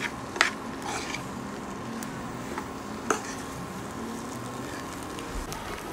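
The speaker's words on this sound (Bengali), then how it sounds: "আর 2-3 মিনিটের মতো এটাকে নেড়ে চেড়ে ভালোভাবে মিশিয়ে নেব।" Garlic butter egg pasta is stirred in a pan over a steady faint sizzle, with a few soft clicks of a utensil scraping and tapping the pan.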